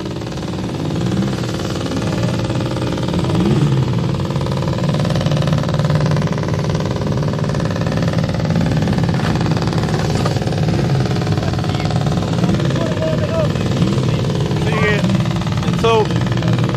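Classic sidecar racing engines running before a TT race, a continuous dense droning roar with revving from several machines, steady and loud throughout, with people talking over it.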